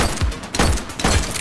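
Three quick, punchy gunshots from The Precinct video game, evenly spaced about half a second apart, loud and close with short booming tails.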